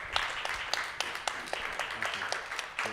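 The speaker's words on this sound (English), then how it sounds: "a big round of applause for the panel" Faint applause from the audience for a climate finance panel at a COP24 event, scattered individual claps standing out above a soft, thin background of clapping.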